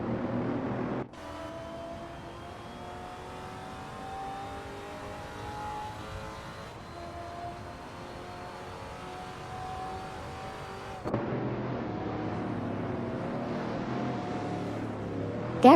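AI-driven supercars race around the Zolder circuit in a racing video game, engines droning and shifting pitch steadily as cars pass, with a sharp change in engine tone near the end; no talking.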